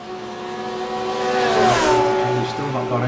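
A Lamborghini and a Porsche race in a video game at Bathurst, their engines revving with rising whine as the cars sweep past, loud and close, with a voice talking over the engine noise.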